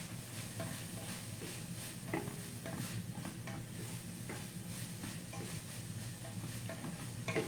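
Black pepper being stirred into cabbage sautéing in a pan, a soft steady sizzle under occasional scraping and stirring clicks, with no voices.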